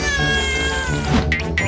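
A cartoon cat lets out a loud, drawn-out meow that rises into a whine, with a couple of short squeaky accents near the end.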